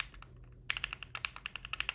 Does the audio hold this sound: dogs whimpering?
no